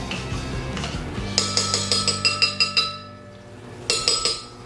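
A glass jar of mayonnaise is tipped and knocked against a blender, giving a quick series of bright, ringing clinks in a steady rhythm, then a pause and a second short burst of taps, all close up.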